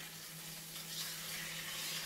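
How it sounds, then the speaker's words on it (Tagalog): A salmon fillet frying in a pan and being flipped, cooked with white beans, malunggay, onion, garlic and ginger, gives a faint, steady sizzle over about two seconds with a low hum beneath and no talk. "luto na yung isang side ng salmon. Kaya, ibabaligtad ko naman siya"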